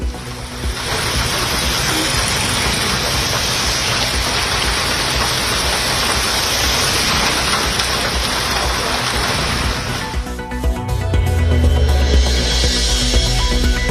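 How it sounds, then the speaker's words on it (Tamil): Rain pours down in the Nagapattinam, Mayiladuthurai and Sivaganga districts of Tamil Nadu, a loud, even wash of falling water that shifts in character near the end and has no talking. "நாகை, மயிலாடுதுறை, சிவகங்கை மாவட்டங்களிலும் மழை கொட்டியது."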